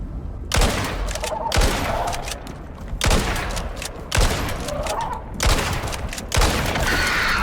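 Six sharp gunshots ring out about a second apart in the survival video game Icarus, fired at an arid striker creature, each loud crack trailing into a brief rumble with steady game ambience underneath.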